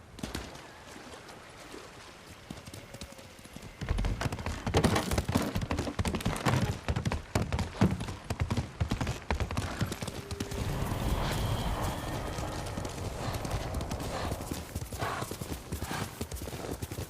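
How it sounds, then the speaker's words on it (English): Rhythmic clip-clop of horse hooves galloping close by in the video game Ghost of Tsushima, steady and loud, with a brief whinny and faint ambient noise; a quiet stretch precedes the hoofbeats. "Horse!"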